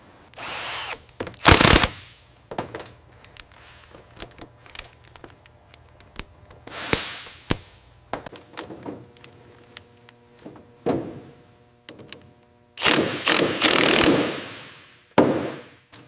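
Rivet guns on a Boeing 737 fuselage section fire in short, loud, irregular bursts of sharp hammering, separated by quieter factory background hum.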